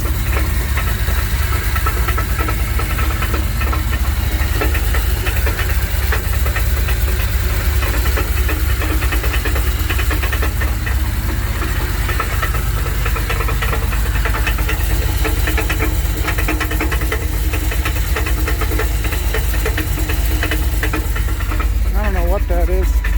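A 1984 Dodge D150 truck engine idling after a long road trip, a loud, steady mechanical rumble with a repetitive knocking tick running throughout, close up, with a voice speaking over it at times.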